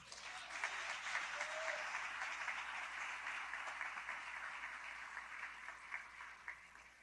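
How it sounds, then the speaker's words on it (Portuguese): A congregation at a church conference breaks into sustained applause, a dense, even clapping that carries steadily for several seconds at a fairly distant, moderate level. "Pode aplaudir a Deus."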